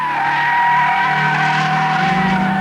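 A Peugeot 306 front-wheel-drive hatchback driven hard at high speed, its tires squealing and skidding in a sustained, loud whine over a steady engine drone, with no talking.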